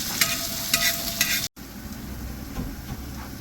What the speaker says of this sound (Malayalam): സവാളയും പച്ചമുളകും ഇട്ട് കൊടുക്കാം ഇതൊന്ന് വാടി വരുമ്പോൾ